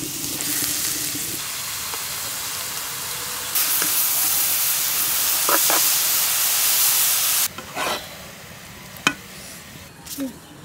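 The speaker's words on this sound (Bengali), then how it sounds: "তো প্রথমে হচ্ছে ঘি দিয়ে আমি ভেজে নিব।" Beetroot fries in homemade ghee for halwa, a loud close hissing sizzle that intensifies midway, then drops back, with a few knocks and stirring sounds toward the end.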